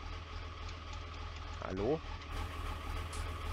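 Fiat Agri 90 tractor engine idling in Farming Simulator 19, a steady low rumble running throughout, with a short spoken word near the middle over it.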